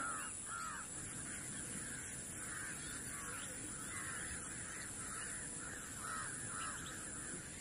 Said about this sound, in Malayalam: കിളികൾ ഉറങ്ങാൻ പോകുന്നതിന് മുമ്പായിട്ടുള്ള ഒരു ബഹളമാണ് ഈ കേൾക്കുന്നത്